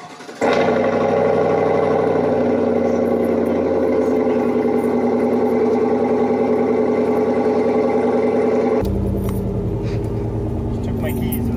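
A 2021 GMC Sierra AT4 pickup with a new exhaust starts up and settles into a steady, loud idle rumble close by, with a deeper, heavier engine tone toward the end.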